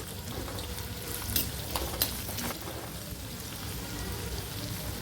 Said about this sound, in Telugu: ఉల్లిపాయలు బాగా వేయించుకోవాలి